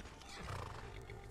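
Horse neighing in Skyrim, the fantasy role-playing video game, a warhorse whinny sounding near and fairly loud over a dense game soundscape, brief and steady across the short moment with no talk.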